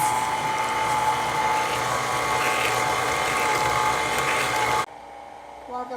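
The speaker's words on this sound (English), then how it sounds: "if you have a handheld mixer or a standing mixer, you can use it. And I would set it to the second speed for about 2 minutes." An electric mixer runs steadily on its second speed, beating wet baking ingredients with a continuous whirring drone. It stops abruptly near the end, leaving near silence.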